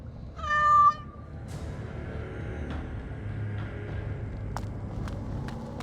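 A cat meows once in the video game Dragon Age Awakening, a short, loud, tonal call near the start, followed by a low background rumble and a few faint clicks.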